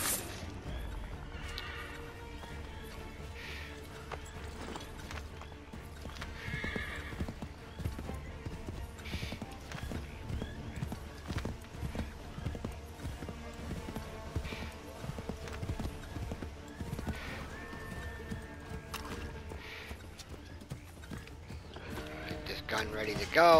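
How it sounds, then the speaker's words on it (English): Horse hooves clip-clop in a rapid galloping rhythm with occasional neighs in the Assassin's Creed 3 video game, mixed with game effects and a voice talking over it. "Pull me off the horse?"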